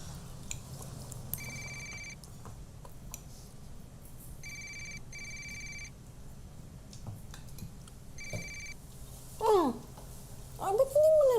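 A telephone rings in repeated electronic bursts and goes unanswered, heard at moderate level against a faint room background, with a voice speaking near the end.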